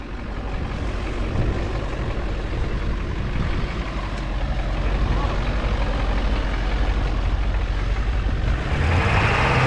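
A truck engine rumbles loud and steady while the vehicle drives off-road in two-wheel drive, with a low continuous drone that swells slightly toward the end, and people talk over it.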